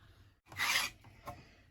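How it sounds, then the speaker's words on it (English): A scraper rasps old finish off a wooden footstool in two short strokes, one long and one brief, close and fairly loud. "scraping this off has just become way too much fun"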